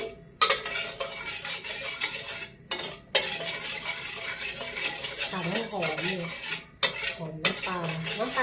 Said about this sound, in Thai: เปิดแก๊ส ไฟแรงเลยนะคะทุกคน กระหล่ำปีผัดน้ำปลานะคะ